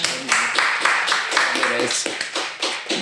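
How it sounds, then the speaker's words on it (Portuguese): A small audience claps for a guest in brief, regular bursts of hand claps, fairly close and sharp. "Uma salva de palmas."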